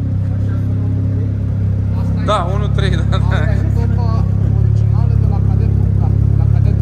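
A car engine runs loudly and steadily at close range, its low hum swelling slightly toward the end, with people talking over it.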